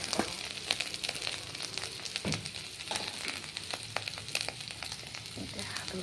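Potatoes frying in a pan: a soft, steady crackling sizzle with scattered small pops and occasional utensil clinks, fairly quiet and without talk.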